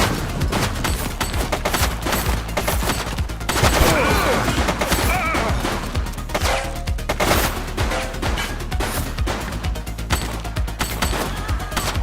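Dense gunfire in a police video game: rapid, loud bursts of shots overlap into a nearly continuous barrage, close and relentless from start to finish.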